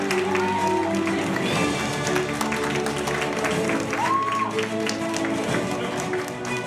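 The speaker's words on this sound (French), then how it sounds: "Allez, on les applaudit encore." Audience at a youth final applauding, a dense wash of clapping sustained throughout, with voices and music mixed in beneath.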